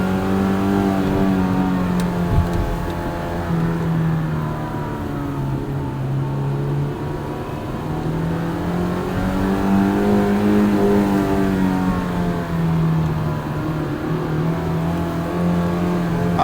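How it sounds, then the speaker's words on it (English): A 1998 Acura Integra GSR sedan engine revs hard into VTEC and climbs in pitch, rising and falling as it pulls through the gears, loud and close with no talking. "This car's making all this noise, hitting it in VTEC"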